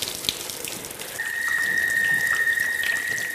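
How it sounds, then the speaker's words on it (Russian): An angled water jet strikes a metal mesh, and a steady, clear whistling tone rises out of the splashing water partway through and holds to the end. "Струя воды под углом, падая на металлическую сетку, издает звук."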